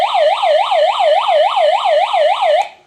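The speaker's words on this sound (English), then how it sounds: "this little radio has an SOS button on the bottom. Listen to this. It's really loud." The SOS alarm on a Foss Power hand-crank emergency weather radio wails as a loud, piercing, rapidly sweeping siren tone, rising and falling about four times a second, close up and alone, then cutting off abruptly.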